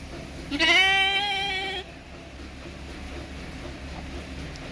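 A domesticated sheep kept by its owner lets out one loud, wavering bleat lasting about a second, close to the microphone, followed by a quiet background hum.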